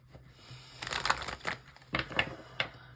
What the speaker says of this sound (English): the cards are not coming together easily. All of a sudden, it's difficult to shuffle everyone